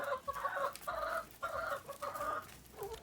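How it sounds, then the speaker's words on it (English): Chickens cluck repeatedly inside a chicken house bedded with wood shavings, a busy flock chattering in overlapping bursts, fairly close and continuous with no talking. "Here's your chickens."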